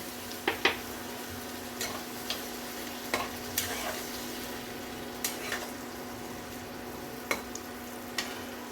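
Soaked spice paste and water hitting a frying pan during preparation of a Bengali pabda fish curry, a steady low sizzle punctuated by scattered sharp clinks and scrapes of a utensil against the pan.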